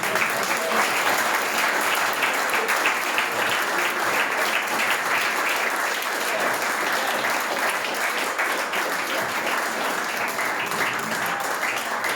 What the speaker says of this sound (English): everybody needs to give him a massive applause for what he actually does for you guys as well